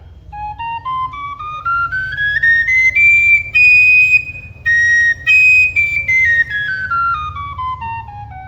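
A Lanna Thai khlui flute sustains one clear, bright tone that glides slowly upward, holds high, then slides back down, with a low rumble underneath.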